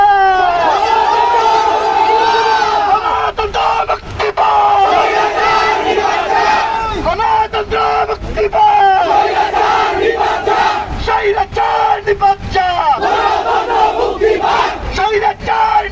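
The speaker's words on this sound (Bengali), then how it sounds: "আমরা একটি স্লোগান ধরব আমাদের সকলের পরিচিত স্লোগান" A large protest crowd in Bangladesh chants a slogan in loud, rhythmic unison, repeated phrases rising and falling with shouted voices throughout, close and dense.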